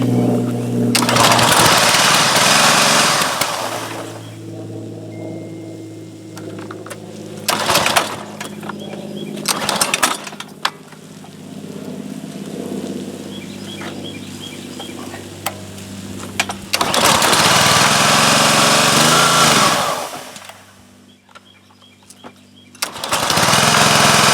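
A Troy-Bilt pressure washer engine that is hard to start and won't stay running roars loudly in bursts, then drops away to quieter rattling and ticking stretches before catching again, with no voices heard.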